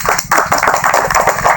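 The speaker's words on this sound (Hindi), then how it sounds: "ताली बजा" A crowd at a live devotional gathering claps together in a loud, rapid burst lasting under two seconds.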